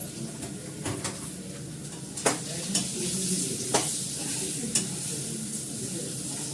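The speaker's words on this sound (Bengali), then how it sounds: "মশলাটা ভাজা মানে তেলে নিয়ে ভাজা বেটে রাখা হয়েছে তেলে নিয়ে" Ground spice paste fries in oil with a dense, close sizzle. It is stirred continuously, with several sharp spoon-against-pan clicks scattered through the few seconds, and no one speaks.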